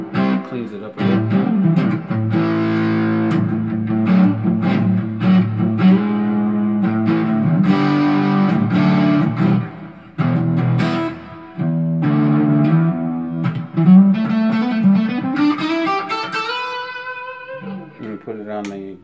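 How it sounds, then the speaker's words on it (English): A Harley Benton CST 24 electric guitar plays distorted rock crunch chords in a steady rhythm, loud and close, with a brief pause midway and a bending note near the end. "you got that rock and roll crunch sound now"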